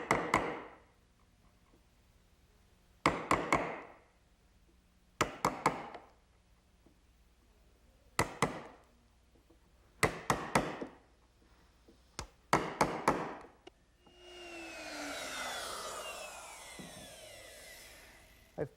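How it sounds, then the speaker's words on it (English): Sharp chisels square up a wooden mortise in a rocking-horse build: crisp, close taps in clusters of two or three separated by pauses, followed by a longer scraping rasp. "To finish the mortise, I'll just use a couple sharp chisels to square it up."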